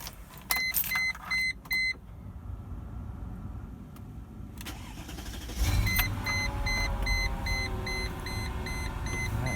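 A few electronic chirps sound, then a Mercedes ML55 AMG engine with a custom air filter cranks and catches, rumbling into a steady idle while high beeping tones repeat.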